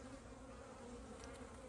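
Honeybees crawl over frames of an opened hive during a fall inspection, giving a faint, steady, dense buzzing hum throughout with no voices.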